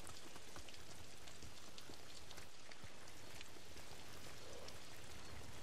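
Steady rain falls in the samurai video game Ghost of Tsushima, a constant soft hiss of drops pattering on surfaces with no voices over it.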